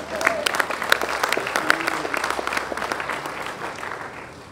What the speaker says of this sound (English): So you can clap on that too.